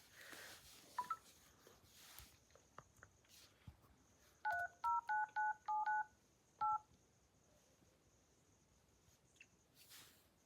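A quiet room, then a quick run of electronic keypad tones as a phone number is dialed, about eight short beeps in an uneven rhythm, followed by one more beep after a pause.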